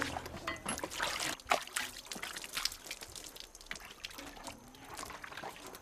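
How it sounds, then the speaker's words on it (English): Water trickles, pours and drips steadily while a coffee pulping machine is rinsed clean with fresh water, a close, continuous splashing flow with small irregular bursts and sloshes. "Make sure to rinse the machine thoroughly with clean water before filling it with the ripe cherries."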